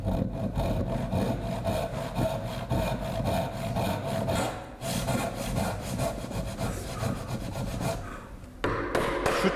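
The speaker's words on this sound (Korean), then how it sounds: "숫장부를 톱질하는 모습입니다." A hand saw cuts a wooden tenon for a traditional Korean joinery joint, producing loud, close, continuous rasping strokes in a steady back-and-forth rhythm with only brief pauses.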